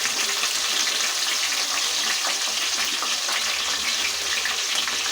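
Dried prawns hitting hot oil in a home kitchen pan while cooking a prawn, cucumber and potato curry, giving a loud, steady broadband sizzle that runs unbroken throughout.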